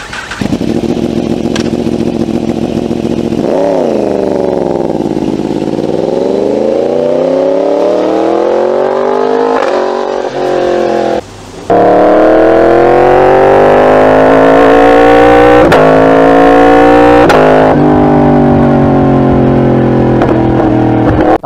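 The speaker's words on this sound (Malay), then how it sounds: "enjin inline 4 Yamaha R1 bunyi dia seakan-akan macam enjin" A Yamaha R1 crossplane inline-four motorcycle engine revs loudly and continuously, its pitch repeatedly sweeping up and down through blips of the throttle, with a brief dip near the middle before climbing again.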